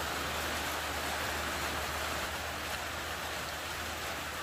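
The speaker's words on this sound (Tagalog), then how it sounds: "ang lakas ng ulan. Narinig mo." Heavy rain pouring steadily near a chapel on the way to Bunga Falls in Nagcarlan, Laguna, a dense, even hiss of downpour throughout with no voices over it.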